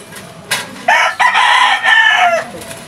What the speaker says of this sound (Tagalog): Ito na nga mga kaibon yung ating na-harvest ngayong araw.